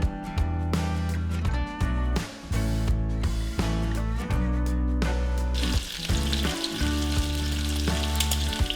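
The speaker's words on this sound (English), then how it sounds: "While our bacon is cooking" Bacon fries steadily in a pan with continuous crackling sizzle, loud and close, broken by a few brief scrapes and clatters of stirring while dinner is made.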